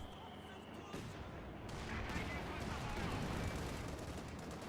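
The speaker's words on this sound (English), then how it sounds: "6-pounder firing a few shots into the Panther" Anti-tank 6-pounder guns fire shots at a Panther tank in a World War II strategy video game, a dense, steady stretch of overlapping gunfire and explosions mixed with battle noise, while a voice talks throughout.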